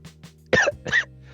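Two short, harsh coughs close to the mic, a brief pause between them, with faint breathy sounds before.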